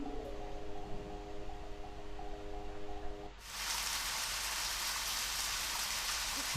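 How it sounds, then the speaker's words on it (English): Steady hiss of heavy rain in the video game Deadly Premonition swells in suddenly midway, replacing a quieter tonal background and continuing evenly to the end. "That's the sound of rain."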